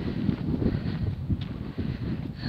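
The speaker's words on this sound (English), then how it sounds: "Wow, it's windy here. You can probably hear it." Gusty wind buffets the microphone in a continuous low rumble, rising and falling in strength outdoors on open heather countryside near White Holme Reservoir, with no voices.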